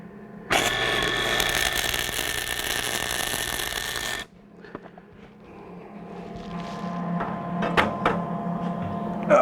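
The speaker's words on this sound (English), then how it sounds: "you will be witness to the very first bead of aluminum welding that I ever do officially" A MIG welder laying a first aluminum bead: a loud, steady buzzing hiss that starts abruptly, runs about four seconds and stops sharply, followed by quieter handling clatter and light clicks.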